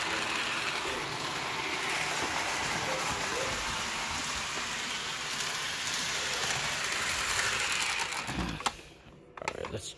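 A Lionel or Marx toy electric train runs on its track, giving a steady close rattling clatter with fine rhythmic ticking that fades out near the end.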